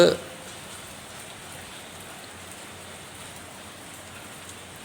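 Heavy rain falls steadily over Kakkanad in Ernakulam at night, a dense, even hiss that stays constant throughout after a brief knock at the very start.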